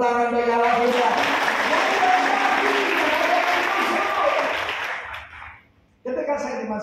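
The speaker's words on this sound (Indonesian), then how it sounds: "Tepuk tangan bagi Allah kita." A church congregation claps and cheers in praise of God, loud sustained applause that fades to near silence before a singing or speaking voice returns.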